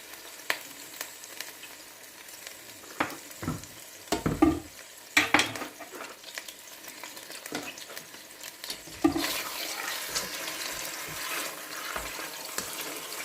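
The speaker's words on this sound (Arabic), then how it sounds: "خاصكو اللحم كي نقليوه نقليوه هكذايا" Meat for kebab frying in oil in a pan, a soft steady sizzle with stirring clatter and scraping bursts, growing louder and denser toward the end, no talk.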